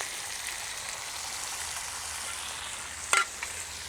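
Onions frying in hot oil with dried red chillies and curry leaves for a crab masala gravy, giving a steady broadband sizzle throughout, with a brief sharp crackle and spatter near the end.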